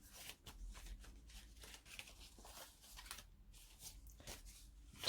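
Vintage paper envelopes from an Edith Holden craft pack are handled and sorted, giving soft, close papery rustles and flicks in quick irregular bursts at a low level.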